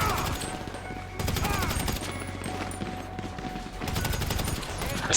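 Gunfire rattles through a GTA V Online match, dense bursts of automatic shots that come and go around steady game noise, with a voice talking over them.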